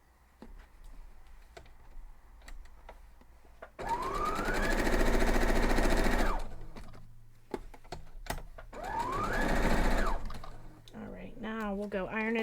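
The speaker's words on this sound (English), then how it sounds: "now I'm just going to sew this side too" A home sewing machine stitches a seam on a strawberry patch quilt block in two steady whirring runs, each ramping up and slowing down, separated by quieter handling clicks and a faint voice near the end.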